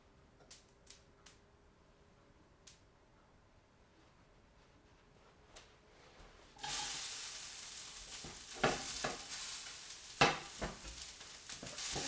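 Carrots and other vegetables hit a lightly oiled preheated frying pan, a loud hissing sizzle bursting in after several quiet clicks and taps, then continuing with stirring scrapes.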